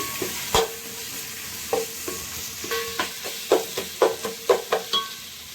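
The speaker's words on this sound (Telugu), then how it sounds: "ఆనియన్ టమాటో వేసి బాగా ఇలా ఫ్రై చేసుకోవాలి." Onion and tomato fry in a pan with a steady sizzle, broken by a string of repeated spatula scrapes and taps that grow busier toward the end, with no talking.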